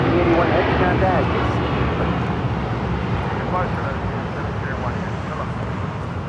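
Aero Union heavy cargo jet, flight 7081, taking off at Los Angeles International Airport, a steady loud broadband engine roar filling the whole stretch, slowly easing as it climbs away, with faint radio chatter underneath.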